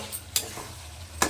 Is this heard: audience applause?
no